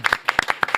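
An audience claps in welcome for reporter Joo Jin-woo at a Korean talk-show taping, a short burst of sharp, fairly close claps in quick uneven rhythm.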